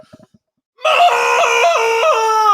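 A man in Texas imitates a cow's moo, bellowing a loud, sustained vocal call for nearly two seconds with a wavering pitch, after a few faint sounds.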